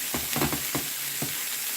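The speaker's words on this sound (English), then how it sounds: "that's sizzling loud" Crackling sizzle of food frying in a pan, steady hiss punctuated by a few sharper pops, heard up close.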